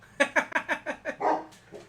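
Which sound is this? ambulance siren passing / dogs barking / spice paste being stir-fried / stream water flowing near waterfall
dogs barking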